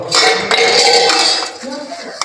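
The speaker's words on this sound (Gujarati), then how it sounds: "મમ્મી વાસણ ધોવાના હાલા જો" Metal pots and cutlery clatter and clink near at hand, with running water and a voice speaking over the washing-up.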